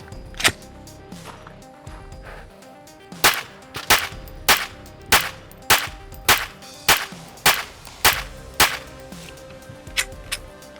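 A police trade-in Glock .45 pistol fires about a dozen sharp, loud gunshots in a fairly regular rhythm at an outdoor range, with short pauses between some of the shots.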